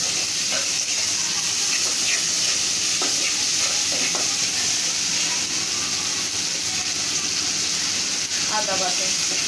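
Garlic paste sizzles and fries in a hot pan with green chilies, giving a constant loud hiss with occasional stirring scrapes, for a Bengali chicken and potato curry.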